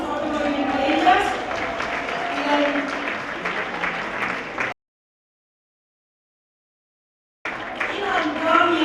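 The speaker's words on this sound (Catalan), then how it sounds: "un fort aplaudiment per elles" A crowd breaks into warm applause for honoured textile workers at a tribute event, clapping steadily and loudly, then cutting out abruptly before resuming.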